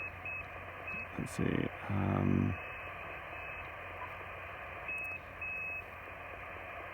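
An Icom IC-703 Plus radio sends CW Morse sidetone as short, faint, high-pitched beeps in irregular clusters over a steady background hiss, with a brief spoken remark and a couple of low thumps partway through.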